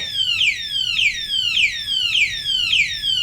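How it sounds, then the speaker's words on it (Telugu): A smart anti-theft lock's alarm shrieks in a loud, repeating descending siren sweep, five cycles in quick succession, set off by someone touching the lock. "అది అలారం అవ్వడం స్టార్ట్ అవుతుంది"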